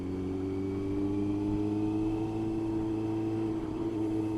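Car driving through Mere Tunnel, a steady droning engine hum with a deep, even tone and no clear revving, close and continuous throughout, no voices.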